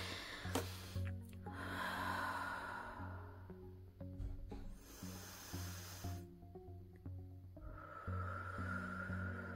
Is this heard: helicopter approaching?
no